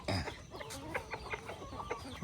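Chickens clucking in a steady run of short, soft calls, fairly faint and close together, among other farmyard birds at a Thai rural home in the morning.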